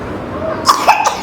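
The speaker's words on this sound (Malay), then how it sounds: "Oh, batuk." A few harsh coughs break out indoors at a family home, short bursts in quick succession that sound fairly close and loud, with a faint murmur of room noise around them.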